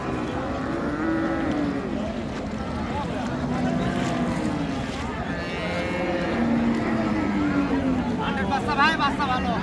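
Cattle at Raniganj market in Dinajpur, including a Sahiwal cow with her calf, giving several drawn-out low moos amid a busy crowd, with people talking nearby.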